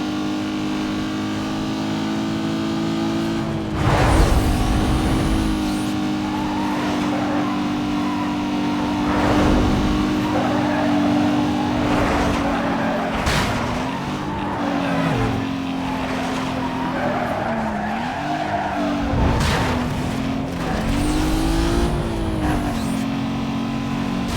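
A car in the racing game Need for Speed Most Wanted skids under handbrake, its engine droning steadily while loud tire squeals rise and fall in repeated bursts.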